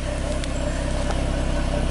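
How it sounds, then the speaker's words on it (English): A 2013 Ford Mustang V6 coupe idling, its exhaust a steady low, even rumble with a fine pulsing throb, close and quiet, alone without talk. "Just listen to the exhaust, and I guess there's really not much to hear."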